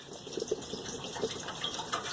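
Water pours into a Dutch oven with a continuous close gushing rush and small gurgling splashes, steady and fairly loud across the short stretch, with no one talking.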